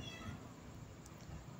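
A cat meows indoors at home, soft and fairly faint, a short call over low background rumble.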